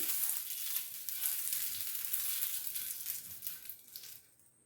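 Dhirdi, a mixed-flour batter pancake, sizzles and crackles steadily on a hot pan, a soft continuous frying hiss that thins and fades toward the end.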